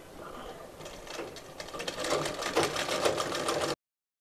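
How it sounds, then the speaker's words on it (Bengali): A sewing machine stitches a lehenga made from an old sari, running in a steady, close mechanical whir that builds and then stops abruptly. "তো এখন নিচের দিক থেকে আমি সেলাইটা করব"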